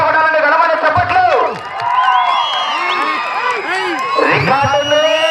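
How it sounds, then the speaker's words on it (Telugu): A crowd at a bull-pulling race cheers and whoops loudly at close range. Overlapping shouts and rising and falling yells fill the air, with scattered clapping mixed underneath. "గట్టిగా చప్పట్లు కొట్టాలండి. గడమని చప్పట్లు."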